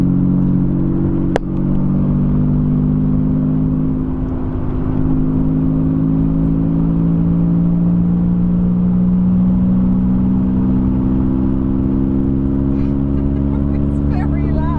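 A modified Volkswagen Up engine drones loudly and steadily nearby, holding a deep, buzzy rumble that rises slightly in pitch for about fifteen seconds.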